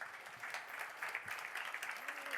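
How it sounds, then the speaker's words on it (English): Keynote audience applause at a conference, a dense wash of clapping at moderate level with a few louder claps scattered through, sounding from a mid-sized room and running steadily throughout. "I'll remember that was an applause line."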